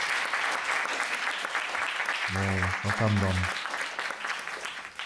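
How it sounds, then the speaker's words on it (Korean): A lecture audience at a Kyobo Book Centre talk applauds in a steady, dense wash of clapping throughout, while a voice briefly speaks over it partway through. "넘기는 동안 박수 한번 부탁드립니다"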